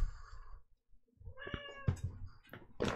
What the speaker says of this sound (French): je parlais à mon chat, elle me parlait